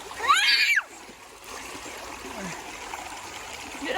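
A small stream flows over rocks at Bukit BDA in Bintulu, a steady broadband rush of water with a brief louder splash near the start. It runs continuously at moderate level.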